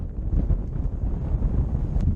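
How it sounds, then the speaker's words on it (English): Strong wind on Jockey's Ridge buffets the microphone in continuous low, rumbling gusts with uneven swells, dominating the scene without any speech. "I'm in this wind tunnel again."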